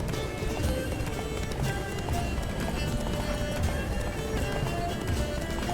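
Steady, rapid hoofbeats of a horse galloping in the video game The Witcher 3, loud and continuous throughout under a busy game soundscape.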